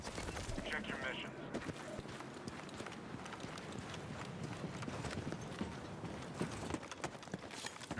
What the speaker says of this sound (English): I heard there's dude's footsteps